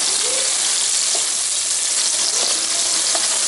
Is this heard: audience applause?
no